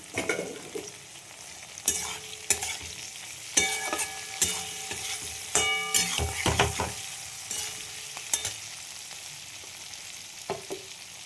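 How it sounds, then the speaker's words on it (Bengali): Chillies frying with garlic and turmeric in a pan for chilli pickle, with irregular scraping and clattering stirs over a steady sizzle, close and fairly loud, no voices. "দেখো ভাজা হয়ে গেছে লঙ্কাগুলো একটা রসুন দিয়েছি আর একটু হলুদ দিয়ে দিলাম"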